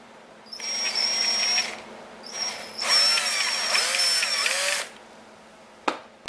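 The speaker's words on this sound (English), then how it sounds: "I'm going to just barely bump the edges with my drill." A power drill lightly shaping the edges of a handmade fishing float whines in two bursts, the second longer with the motor pitch shifting under load, followed by a couple of sharp clicks, up close.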